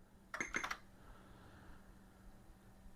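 A brief burst of Atari ST computer keyboard keys being typed, a quick cluster of clicks up close, followed by a low steady hum.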